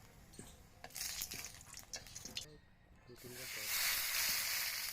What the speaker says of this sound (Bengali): তেল গরম হয়ে গেছে ফোড়নে দেব গোটা জিরে তেজপাতা শুকনো লঙ্কা